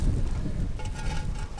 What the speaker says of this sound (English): We have a storm coming. Look how windy it is.